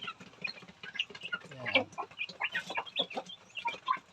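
Chickens in a backyard coop beside a house, clucking and chirping close by in quick overlapping calls.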